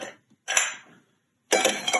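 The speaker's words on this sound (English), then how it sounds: "just for fun, we're going to add a couple ice cubes" A couple of ice cubes dropped into a mixing cup while making cold brew with milk, two sharp clattering bursts separated by a short silence, close and loud.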